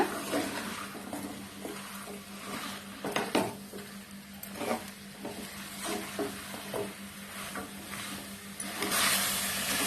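Vegetables for a vegetable biryani stirred and sautéed in a pan, with a steady sizzle under repeated scraping and clinking strokes of a spoon against the metal, close and alone.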